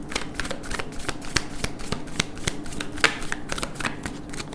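A deck of tarot cards is shuffled close by, with rapid papery riffles and crisp card snaps repeating in an uneven rhythm throughout.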